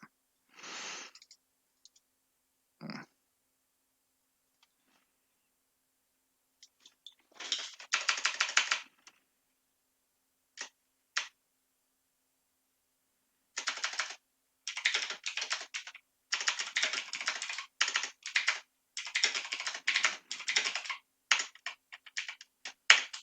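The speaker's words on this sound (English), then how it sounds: "For some reason, this keyboard's Enya doesn't work, so navigating is a little rough." Computer keyboard typing, close and quiet: scattered single clicks at first, then dense bursts of rapid keystrokes with short pauses, no voices.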